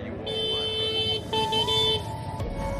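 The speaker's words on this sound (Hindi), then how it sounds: "लगता है यहाँ के लोगों को हॉर्न कम सुनाई देता है बाइक का या कार का" Car or motorbike horns honk in steady sustained blasts on a busy road, one long toot followed by another overlapping one, loud and close over a rumbling engine and traffic noise.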